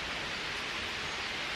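Heavy rain pours steadily outside a house, a dense, even hiss that stays constant and fairly close throughout, with no voices.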